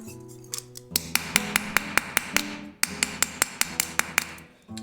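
Nylon rubber mallet tapping the back of a jewelry stamp, a steady run of about a dozen sharp, close, ringing taps in two bursts over a faint background hum.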